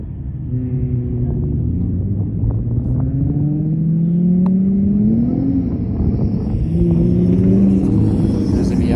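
A car engine revs loudly and close by, its pitch climbing and falling in smooth sweeps over a steady rumble, with other cars around including a Miata, a 370, an STI and a Honda.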